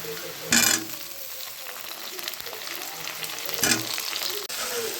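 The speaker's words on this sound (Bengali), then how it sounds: "তো একটু আলু ভাজবো, এর ওপরে দিয়ে আলু ভাজবো কটা।" Potatoes frying in a pan, a strong continuous sizzle heard close up, with two brief louder bursts of spitting and scraping stirs.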